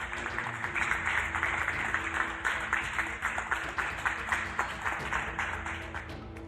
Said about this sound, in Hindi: इन लोगों ने चेहरे पर मुस्कान के साथ तालियां बजाकर भारतीय टीम को धन्यवाद दिया।